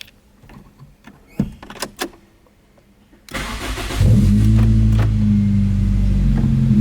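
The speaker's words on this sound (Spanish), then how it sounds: "Como veis, el coche funciona." An old car's engine is started with a copied transponder key: keys and clicks, then a brief crank that catches into a steady, loud mid-pitched idle that continues to the end.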